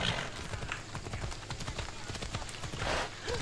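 A horse's hooves clip-clop on a road in the video game Assassin's Creed Odyssey, a quick, steady run of soft hoof beats at moderate distance, with a faint voice in the background.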